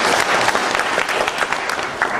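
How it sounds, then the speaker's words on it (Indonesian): A roomful of people clapping at a directors' inauguration ceremony, a loud, close burst of dense applause that holds steady for about two seconds. "tepuk tangan juga buat"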